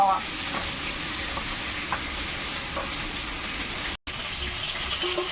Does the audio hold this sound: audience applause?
no